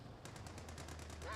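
Spigot weapon firing in Company of Heroes 2, a rapid regular series of about ten faint, evenly spaced sharp reports over low background rumble.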